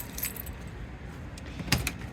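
A Ford ignition key and a bunch of small silver storage-compartment keys for a 2018 Forest River Sunseeker 2860DS motorhome jangle close by in repeated light metallic bursts, with a sharper clink near the end.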